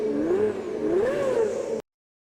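A Pagani supercar engine revving in a racing video game, a smooth rising and falling engine whine over two quick throttle blips, loud and close, cutting off abruptly.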